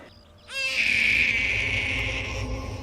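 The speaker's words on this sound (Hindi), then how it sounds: "बच्चे की रोने की आवाज बस में शायद वहां से आ रही है।" An infant cries on a bus, with one sustained, loud, high wail that begins abruptly and holds steady over the low rumble of the moving vehicle.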